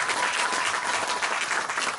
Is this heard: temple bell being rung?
no